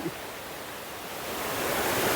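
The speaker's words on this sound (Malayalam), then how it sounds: "ഇത് ഭയങ്കര വെള്ളച്ചാട്ടം" A large waterfall in Meghalaya roars as a dense, steady rush of falling water, swelling slightly louder toward the end with no voices.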